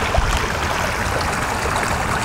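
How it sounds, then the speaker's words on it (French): Water flowing steadily back into the main pond of a water garden near a small stone bridge, a continuous close gurgling rush with no breaks and no voices. "et l'eau qui retourne au bassin principal"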